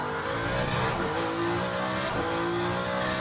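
Ferrari race car lapping Monza in Le Mans Ultimate, its engine droning loud and steady with pitch swings as it shifts and revs, a brief tyre scrub mixed in, no talking.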